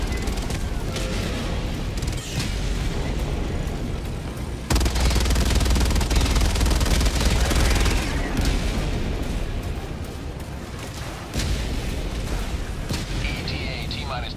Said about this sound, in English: Ooh, hell bomb.